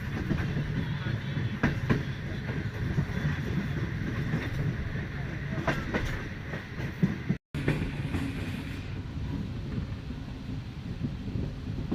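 A Pakistan Railways train moves slowly through Tando Adam, heard as a steady rumble with rhythmic rail clatter and occasional squeals, as if from on board, with a brief dropout midway.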